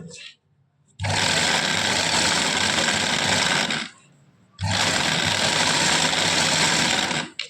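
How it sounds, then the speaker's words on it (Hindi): Picot sewing machine running in two long loud bursts, stitching the edge of fabric with a steady whirring motor drone, separated by a short pause and quiet gaps at the start and end. "अब इसकी चल रही है पिको। अब मैं पीको कर रही हूँ।"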